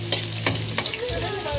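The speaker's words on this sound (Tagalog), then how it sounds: "Lutuin lang po natin yung bawang." Garlic sautés in a pan with a steady crackling sizzle and a few quick stirring scrapes, close and alone without talk.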